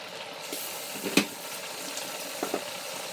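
Mushroom sauce for steak haché simmering in a pan, giving a soft steady sizzle and bubbling with a few light utensil clicks, moderately close and without talk.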